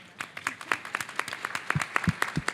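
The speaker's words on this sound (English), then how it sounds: "Give yourselves a round of applause." Scattered, uneven hand claps from a small audience at a food insecurity panel discussion. The claps are fairly faint and come in an irregular patter, with no voices heard.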